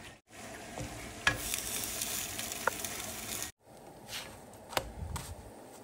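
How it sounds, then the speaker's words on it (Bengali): Paratha sizzling and frying in a pan, with scraping and flipping sounds, a sharp clatter, a brief gap, then more sizzling and turning; close and fairly quiet. "এখন পরোটা আমি ভেজে নেব।"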